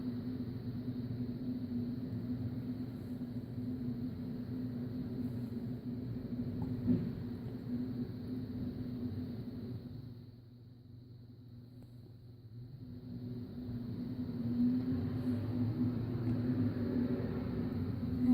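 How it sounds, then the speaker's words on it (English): A garbage truck passes by outdoors, heard from inside as a faint, steady low rumble that dips briefly in the middle and then swells again, with no voices present. "garbage truck running by."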